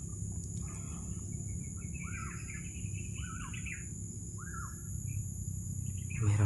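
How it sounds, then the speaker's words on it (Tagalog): Several black birds call from overhead in a forest, a few short squawking calls spaced through the clip over a steady low rumble and insect-like hiss. "Meron na ako nakita mga ibon na sa itaas"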